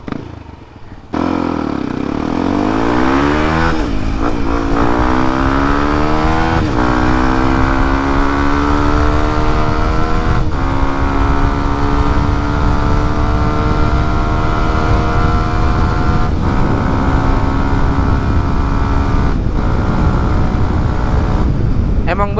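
A Yamaha WR155R motorcycle with a standard engine is held at top speed in sixth gear, its engine drone loud and close after a brief quiet start, pitch creeping slowly upward with a few small dips as it strains.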